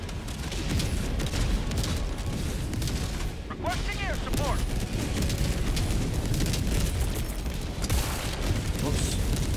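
Orbital strike explosions in a video game, with dense repeated booms and blasts layered over constant battle noise and a brief whistling descent partway through.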